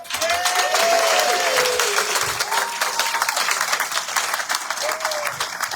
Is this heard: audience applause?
yes